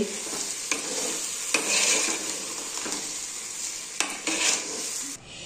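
Rice frying in a pan for korma, stirred with a utensil: a continuous close sizzle broken by several scraping strokes and clinks, with no voices.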